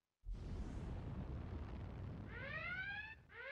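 Missile explosion in the Command naval wargame, a sudden loud broad blast that rolls on for about three seconds, followed by rising alarm-like tones near the end.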